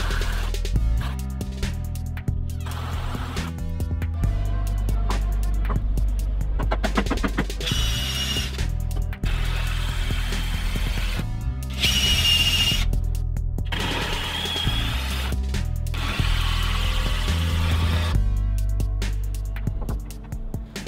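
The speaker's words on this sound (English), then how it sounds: "Nail the flooring and attach the front footer before screwing the final flooring piece." Power tools nailing and screwing down wooden flooring on a shed build, heard as dense, continuous mechanical buzzing and whirring with rapid bursts and short pauses, loud and close, with no talk.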